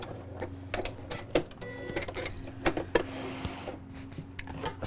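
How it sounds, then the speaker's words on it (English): A sewing machine top-stitches across the front of a fabric tablet sleeve, giving a close mechanical whirring run with ticking clicks, uneven bursts and brief pauses, and no voices. "top stitching across the front"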